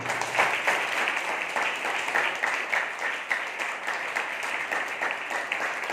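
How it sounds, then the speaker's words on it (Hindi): A church congregation claps in praise of God during a Hindi sermon, an even, moderately quiet patter of many hands sustained throughout. "आइए हम एक जिंदा ताली परमेश्वर के लिए दें।"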